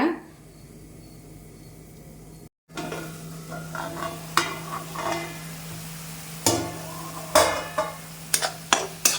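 A spoon stirs mashed masala as it sautés in a pan on the stove for an egg thokku. A faint steady sizzle sits under irregular scraping and sharp metallic taps of the utensil against the pan, with a brief pause near the start and no speech.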